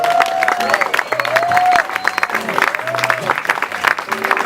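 Live audience at an evening music show on a veranda claps and cheers in a steady, dense burst of applause, with a voice and a few melodic tones carrying over the crowd throughout.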